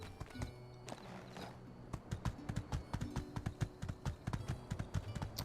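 Horse hooves clip-clopping in the video game My Time at Sandrock, a steady run of close, distinct footfalls with a faint snort or whinny near the start, set against soft game music.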